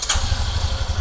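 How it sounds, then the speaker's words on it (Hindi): Royal Enfield motorcycle engine starting up and settling into a steady, low, rhythmic thump, with a brief brighter burst right at the start; close and fairly loud, no talk. "and now if you start the motorcycle"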